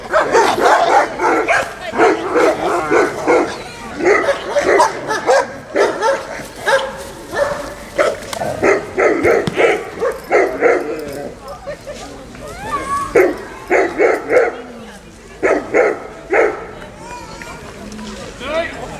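Dogs barking and yipping at a youth dog show and obedience demonstration in Mukachevo, with repeated bursts of barks over a busy crowd and loud background voices throughout.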